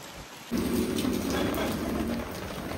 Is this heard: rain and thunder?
yes